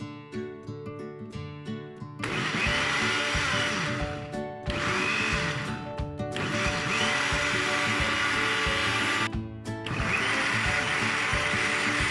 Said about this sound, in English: I'm going to go and blend my peppers and onions and the tomato I showed earlier.